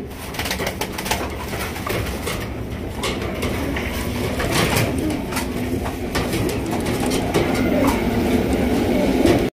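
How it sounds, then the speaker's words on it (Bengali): Black Lahori pigeons cooing in a loft, several birds giving repeated low throaty coos against a steady busy background, close and fairly loud throughout. "এখানে রয়েছে ব্ল্যাক কালারের লাহোরি কবুতর"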